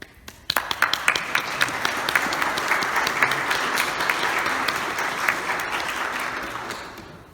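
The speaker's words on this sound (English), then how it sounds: "he got the applause too" Sustained audience applause in a church gathering, starting abruptly and holding steady as a dense, even wash of many hands clapping before tapering at the end, with no voices over it.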